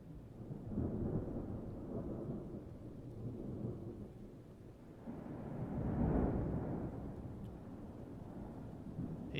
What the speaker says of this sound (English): There's storms going off.